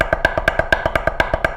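Drum roll on a practice pad, sharp close taps in a fast even double-stroke rhythm where every second note comes out noticeably softer than the first, played alone.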